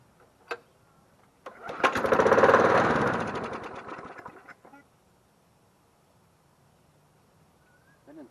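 An old free lawn mower engine coughs into a brief rough run for about three seconds after a spring-pull start, then dies back to quiet, with a short click at the start and end.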